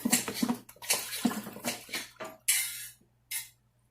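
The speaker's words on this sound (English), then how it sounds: "Okay, so I'm gonna pour my coconut, my sweetened coconut milk." Sweetened coconut milk is poured in short bursts into a pot for Jamaican-style potato pudding, with splashing trickles and a few light clinks of utensils in a quiet kitchen.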